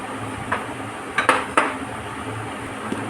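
Solid jaggery pieces dropped into a pot while making Gujarati gol sambhari pickle, giving a few sharp clinks and knocks at the pot against a quiet kitchen background.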